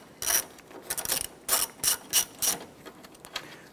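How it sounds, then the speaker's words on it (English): Ratchet with a 7mm socket loosening a headlight bolt on a 2006-2013 Chevrolet Impala: a series of quick, close, crisp ratcheting clicks in short bursts, about a dozen strokes over a few seconds. "Using your 7mm socket, I'll go ahead and loosen and remove this bolt."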